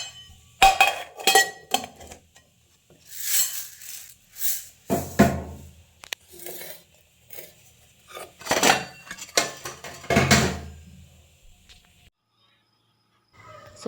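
Jaggery and toor dal being tipped into kitchen containers and the lids closed, heard as close, irregular bursts of clinks, clatters and knocks of metal and glass with quiet gaps between, no talking.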